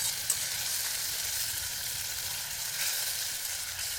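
Turmeric spice paste with salt sizzles steadily while being sautéed for a village-style fish curry cooked on a riverbank, a continuous close frying hiss with no talk.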